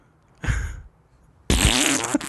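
A fart sound effect plays twice: a short sputtering burst, a pause, then a longer, louder, wetter blast that trails off, close and with nothing else around it.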